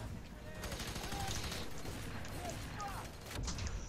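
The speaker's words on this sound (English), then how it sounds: "Dude, this shotgun is really satisfying." Shotgun fire in the F.E.A.R. 3 first-person shooter, a run of sharp, loud blasts amid other gunfire and combat noise, with people talking over the shots.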